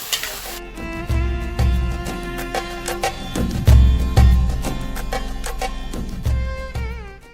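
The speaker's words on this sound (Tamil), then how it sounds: "இப்போ நம்ம ஊற வச்ச வெண்டைக்காவை அதில் ஆட் பண்ணிக்கலாம் நல்லா மிக்ஸ் பண்ணி விட்டுக்கோங்க" Soaked okra tossed into a simmering gravy in a pan, heard up close as a soft sizzle with repeated scraping and clanking stirs of a spoon against the pan, no voices.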